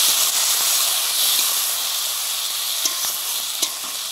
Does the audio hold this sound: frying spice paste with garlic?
yes